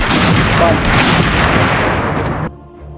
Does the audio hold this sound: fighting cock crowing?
no